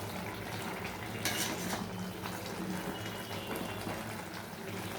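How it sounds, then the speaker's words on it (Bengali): Hilsa fish heads are stirred into cooking greens in a pan: soft scraping and clinking of a utensil against metal with wet, sloshing sounds, fairly quiet and continuous with no voices. "এবার আমি এর মধ্যে ইলিশ মাছের মাথাগুলো দিয়ে দিচ্ছি। ভালো করে মিশিয়ে দিচ্ছি।"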